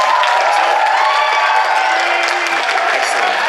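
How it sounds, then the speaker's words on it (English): Applause and cheering from a crowd at a cosplay competition at a 2015 convention in Mandurah, a steady loud wash of clapping with no talk. "one last round of applause for Lee"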